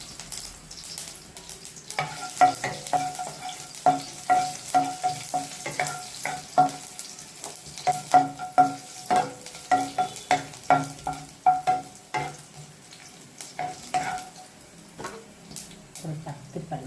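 Mustard seeds, fenugreek, cumin and garlic frying in hot oil for a hotel-style tiffin sambar, with a steady close sizzle and repeated sharp clicks and pops from the seeds and stirring, and no talk.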